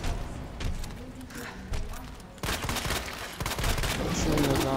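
Gunshots fired at a monster's eyes in Resident Evil 2 Remake, sharp repeated blasts in uneven bursts amid creature noises and game sounds, with someone talking over them.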